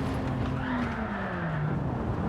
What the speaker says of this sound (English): Car just completely went sideways.